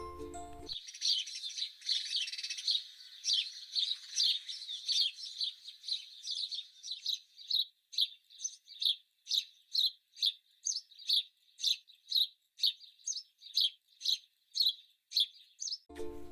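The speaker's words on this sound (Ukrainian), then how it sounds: "Сподобалось, як гарно співає горобчик?" A sparrow chirps repeatedly in quick, bright bursts, starting as a continuous twittering song and breaking into a steady rhythm of separate sharp chirps.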